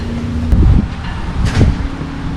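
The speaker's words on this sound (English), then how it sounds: "It's a little windy." Wind gusting across open ground at Big Cypress National Preserve beside a highway, a steady rushing roar with two brief stronger buffets against the microphone.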